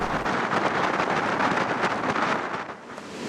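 Steady roaring wind buffets the microphone on Clevedon Pier, a seaside pier in wet weather, a constant broadband rush with no voices, loud throughout and easing slightly near the end.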